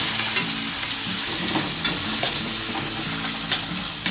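Tomatoes sizzle and hiss as they are stir-fried in a hot pan for a vegetarian bún riêu, a dense, continuous frying sound with spatula scrapes and no talk.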